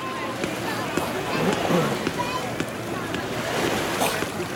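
Waves at a bay wash and splash in a steady surf texture, close by, while voices talk and call out over the water.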